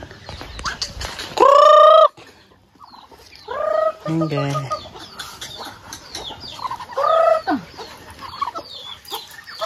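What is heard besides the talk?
chicken clucking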